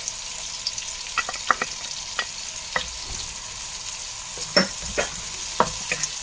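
White onion and garlic frying in a pan for spaghetti sauce, a steady sizzle broken by repeated sharp clicks and scrapes of stirring, close and fairly loud with no talking.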